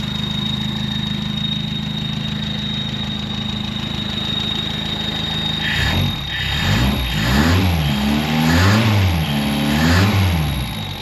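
A Ford Fairlane engine runs loudly and close by, a steady idle with a rhythmic lumpy pulse that swells and dips in repeated revs during the second half, with no talk over it.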